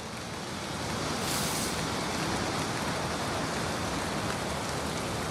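Steady rainfall in the game Valheim, a dense, even hiss that swells slightly after the first second and then holds constant and close, with no voices.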